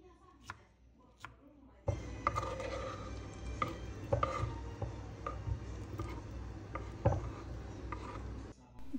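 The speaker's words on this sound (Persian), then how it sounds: "حالا به صورت نگینی خوردشون میکنیم." A knife dices ripe peaches into small cubes on a cutting board at home, producing quick irregular chopping taps, close and fairly quiet, following a couple of isolated knocks at the start.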